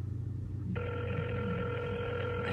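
A telephone ring starts abruptly and holds as a steady electronic tone, with a low hum running underneath the whole time.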